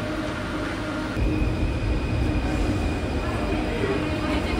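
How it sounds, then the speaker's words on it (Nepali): A Paris metro train arriving, a steady low rumble and rolling clatter that swells after the first second and holds fairly loud and close, with a faint high whine above it. "यहाँनिर मेट्रो आउँछ"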